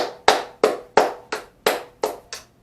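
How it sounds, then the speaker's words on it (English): A single person claps seven times in an even, steady rhythm, each clap sharp and close with a short ringing tail, and nothing else is heard. "Let's give ourselves a round of applause"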